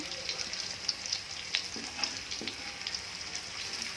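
Vegetables frying in a pan until slightly wilted, a steady broad sizzle with soft, irregular clicks and scrapes of a spatula stirring through them, fairly quiet and close.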